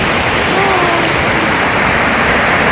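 Ai Khiao waterfall in Khao Luang National Park, Nakhon Si Thammarat, Thailand, gives a steady, dense roar of rushing water that stays close and unbroken throughout.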